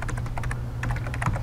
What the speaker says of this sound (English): It automatically opens up the box here where I can type in what I want to save it as.